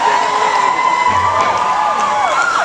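A happy concert crowd in New York cheers and whoops loudly and continuously, a dense wash of voices with a few shrill shouts rising above it.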